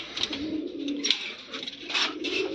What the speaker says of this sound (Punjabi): ਟੀਰੀ ਕਬੂਤਰੀ ਆ ਇਹ